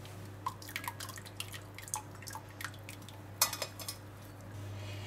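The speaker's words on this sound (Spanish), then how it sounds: "Colamos para que caiga solamente el caldito y se quede bien filtrado" Broth draining through a strainer after frying potatoes for a baked hake dish, heard as scattered soft drips and small clinks spaced irregularly over a steady low hum, fairly quiet and close.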